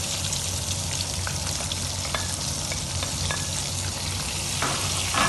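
Yogurt is added to ginger garlic paste frying in a pan, and a strong, continuous sizzle follows with faint stirring clicks. The sound is close and steady, with no talking.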